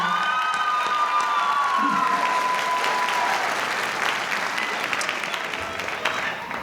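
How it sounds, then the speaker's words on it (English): Warm applause from a large audience at a college commencement ceremony, steady clapping mixed with a few whoops and cheers, a loud whistle-like tone fading early on, the applause gradually thinning toward the end. "Let's give Sandra Henera another round of applause"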